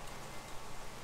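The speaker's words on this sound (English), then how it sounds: "But it's kind of like on and off raining" Steady rain falls outdoors in a brief, even hiss of dense drops on surfaces, soft and moderately close, with no voices.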